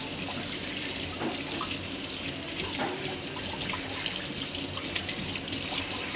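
Tap water runs steadily over breast pump parts as they are rinsed in a sink, a continuous close splashing stream with no talking.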